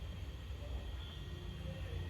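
A low, steady rumble with a constant hiss, like a train rolling along heard from inside a carriage.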